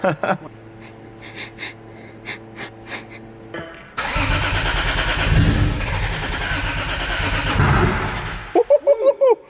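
A turbocharged Lexus IS300 cranking: a rhythmic electronic chime pattern first, then a sustained loud starter whir for several seconds, followed by a few short sharp beeps at the end.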